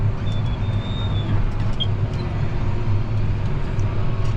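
A John Deere tractor pushes snow with its blade along a driveway, a steady loud engine rumble with scraping underneath, continuous and close throughout.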